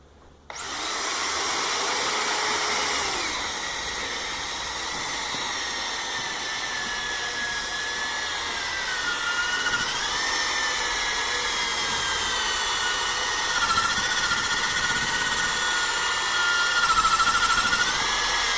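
A power sander working wet 400-grit sandpaper over scratched glass starts with a sharp spin-up, then holds a loud, steady high whine with slight wavering pitch for the whole stretch, no voices heard.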